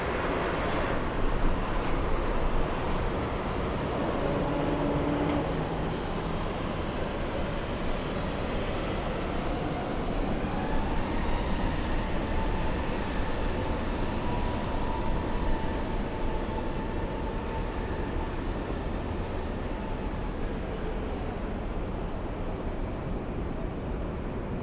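Delta airliner in a special 100-year livery departing LAX for Minneapolis, a broad roaring jet engine rush with a slowly shifting whine, steady and moderately distant, no voices.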